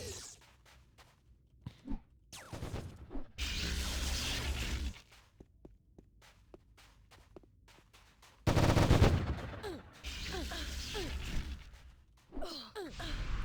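Gunfire rakes a turret in the Anarchy Online video game at Neretva Canyons, loud sustained automatic bursts broken by quiet gaps filled with scattered sharp single shots and clicks.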